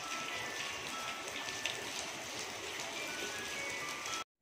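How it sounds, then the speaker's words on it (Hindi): Heavy rain pours down in a village, a continuous broad hiss of falling water at moderate distance that stays even throughout and then cuts off abruptly, with no speech. "ये देखें, आज तो इंतहा की बारिश हुई है"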